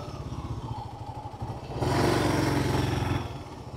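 A Kawasaki KLR650 motorcycle rolls along with a steady mid-pitched engine drone, then the engine swells louder for a moment before easing back as the bike pulls up and stops on a small-town street.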